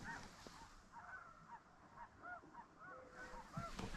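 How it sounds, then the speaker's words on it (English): Geese honking in the distance at dusk during a duck hunt in Alberta, faint, repeated calls over a low outdoor hiss, with no talk. "I can hear the birds in the background."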